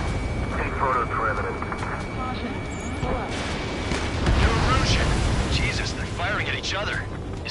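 Enemy guns and explosions rattle and boom in the Ace Combat 7 air combat game, a dense continuous barrage over a droning aircraft engine, with voices speaking amid the chaos.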